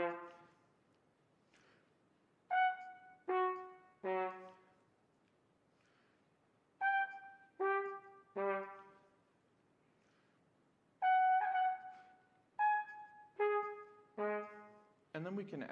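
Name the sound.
trumpet variation starting in upper register, descending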